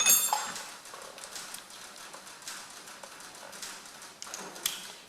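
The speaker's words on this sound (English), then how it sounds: "You can hear the shed creaking a little bit" A shed creaking and ticking as the early-morning sun warms it, heard as faint scattered taps and light pops spread irregularly over a quiet background, with no talking.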